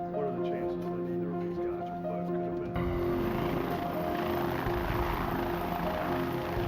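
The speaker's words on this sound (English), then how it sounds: "Arizona Department of Public Safety helicopters retraced the guards' scheduled route" Arizona Department of Public Safety helicopters fly over remote desert, their steady rotor drone swelling louder partway through and running continuously under a narrating voice.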